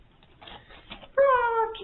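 A cat sitting on a desk meows clearly and fairly close, one drawn-out cry following quieter rustling and faint soft sounds.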